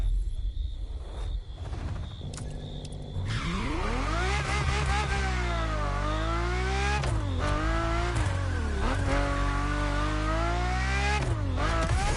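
Ferrari F50 sports car in The Crew Motorfest, its engine revving loud and close with rising and falling gear-change sweeps and brief tire squeals, with music playing underneath throughout.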